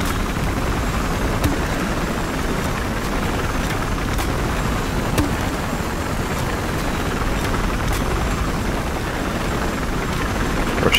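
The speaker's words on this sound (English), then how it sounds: "Their chopper is laying in the back, I see it." A steady, loud roar of rotor and engine noise from an attack helicopter in the video game Battlefield Hardline fills the whole stretch, with occasional faint clicks and distant combat sounds underneath.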